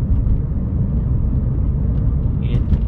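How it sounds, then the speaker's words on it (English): A Seat Leon car pulls away from a junction, its engine giving a steady, close, low rumble that holds even throughout, with no knocks or bangs and no talk over it. "pulling away from the junction there, it's just a nice pulls nicely."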